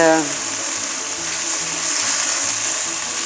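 A filling with garlic fries in a pan, giving a steady, even hiss for the whole stretch, with a brief voice at the very start.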